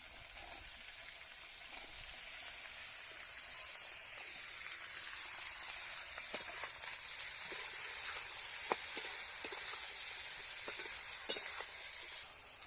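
Beans and eggplant sizzle steadily in a hot pan, a continuous fry hiss with occasional sharp stirring clicks and scrapes near the end, no talking.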